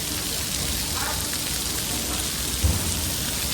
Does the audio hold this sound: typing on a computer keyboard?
no